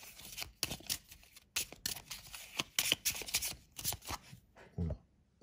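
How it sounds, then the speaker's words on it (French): Green cards being shuffled for a Cthulhu board game: repeated close, papery riffles and flutters in quick bursts, moderately quiet, with no talking. "Donc on mélange les cartes vertes"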